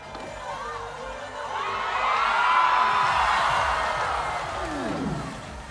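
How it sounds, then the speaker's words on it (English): A stadium crowd cheers on a pole vaulter attempting 5.30 meters at the World Pole Vault Challenge, with rhythmic clapping and whoops that swell to a loud peak in the middle before easing, while a few nearby voices call out. "Being egged on by the crowd."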